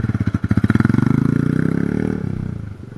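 Motorcycle engine on a Jamaican street during a riding lesson, a close, loud, steady rapid thumping that holds through the pull-away and then eases off slightly near the end.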